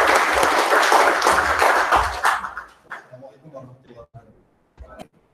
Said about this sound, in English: give applause to Mr. Arif Mustaqim.